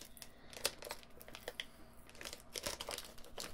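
A taped plastic bag being worked open by hand, with a steady run of close, crinkling and crackling plastic and a few sharper snaps of tape, with no talking.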